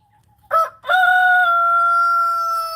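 A farmyard rooster crows loudly and close by, one long cock-a-doodle-doo that opens with a short clipped note and then holds steady for a couple of seconds over faint background hum.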